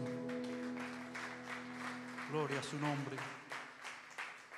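A church congregation claps loudly during a Spanish-language worship service, bursts of applause layered over sustained musical tones while a voice speaks and sings across them.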